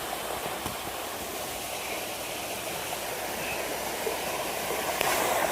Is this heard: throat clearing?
no